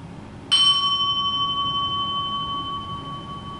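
A single bell struck to close a meditation practice rings out clearly, its bright tone sustaining and slowly fading over several seconds above a soft room hush.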